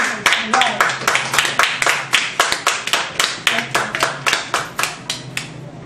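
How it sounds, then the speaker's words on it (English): A group claps in steady, even rhythm at a Toastmasters club meeting, about three claps a second, close and loud, with no voices. "A warm round of applause, please, ladies and gentlemen."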